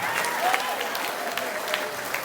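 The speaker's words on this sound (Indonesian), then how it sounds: "Kasih tepuk tangan yang meriah buat Tuhan kita." Church congregation applauding, a close, steady patter of many hands clapping together throughout the short stretch with no voices.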